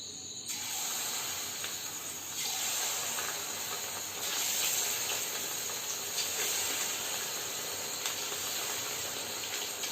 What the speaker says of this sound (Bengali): তেলটা গরম হয়ে গেছে এবার এই যে ম্যারিনেট করে রেখেছিলাম চিকেন এগুলো দিয়ে একটু একটু করে ভাজবো